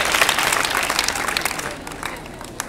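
An audience at an awards ceremony for excellence scholarships applauds steadily with dense, sustained clapping that tapers slightly toward the end, with no talking over it.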